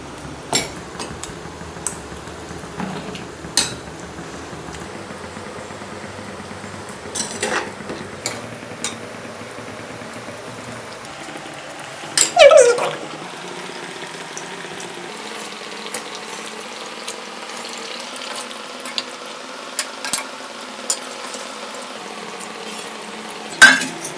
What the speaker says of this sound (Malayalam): നമ്മുടെ മീൻകറി ഇവിടെ തിളച്ച് വന്നിട്ടുണ്ട് നമുക്ക് പുളി ഇട്ട് കൊടുക്കാം